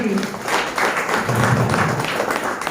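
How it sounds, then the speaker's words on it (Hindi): Audience applause breaks out at a motivational speech on direct selling, a broad, steady wash of clapping from a crowd that fills the whole stretch at fairly high level. "और मुझे बिजनेस दिखाने वाले मेरे ग्रेट गुरु राजेश मालकर सर के लिए एक बार जोरदार ताली होना चाहिए।"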